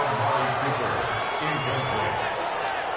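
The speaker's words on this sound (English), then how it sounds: "You can already start to hear this crowd. They're saying, go for it." A football video game crowd, Madden 20, chanting as a dense, continuous roar throughout, with rhythmic rising swells in the low range.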